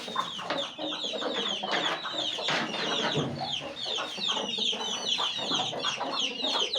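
A flock of chickens clucks and chatters busily inside a small poultry house in winter, a dense, close, continuous mix of overlapping calls with no speech.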